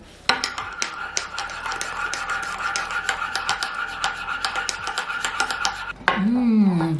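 A spoon scrapes and clinks against a mug while scooping brown sugar into coffee, a steady run of small metallic taps and scratches close up, ending in a brief louder stir.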